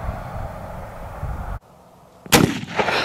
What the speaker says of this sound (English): of course we have to shoot some milk jugs